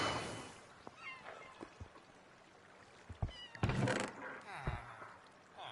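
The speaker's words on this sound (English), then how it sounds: "every time you hear a meow" Minecraft cat meows come through in short, faint cries amid game thumps and clicks, with a louder burst of sound near the middle, while a person talks over the gameplay.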